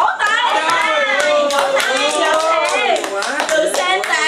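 Hand clapping at a lively family gathering, blended under busy overlapping voices and someone speaking, steady and loud throughout.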